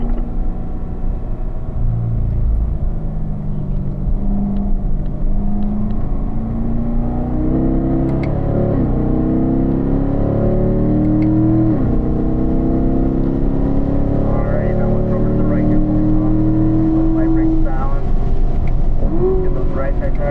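A race car engine drones loud and close on a circuit, pitch climbing and dipping through several gear changes as the driver gets back on the throttle out of a corner, with a constant low rumble beneath.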